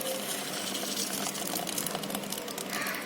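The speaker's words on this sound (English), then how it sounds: "Now I pour this mixture" Mango pudding mixture pours steadily into a vessel, a continuous gushing, splashing stream heard up close with no talking.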